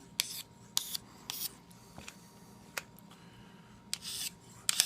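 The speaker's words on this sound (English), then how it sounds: "Start with a real coarse stone, just get a burr" A knife edge being sharpened on a coarse stone with a KME convexing rod system, a series of short, crisp rasping strokes repeating at an uneven pace, close and fairly quiet with pauses between passes.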